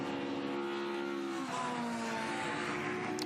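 Classic race cars at the Le Mans Classic Grand Prix L'Age d'Or, their engines roaring steadily as they pass, with several rising and falling engine tones overlapping into a continuous loud, dense drone.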